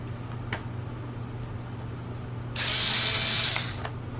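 A buzzing whir, close and fairly loud, lasting about a second, from a small motorized screwdriver undoing a screw on the bottom panel of a Lenovo ThinkPad T440p laptop, framed by faint clicks and a steady low hum.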